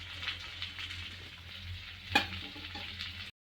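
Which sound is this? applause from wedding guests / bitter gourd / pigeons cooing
bitter gourd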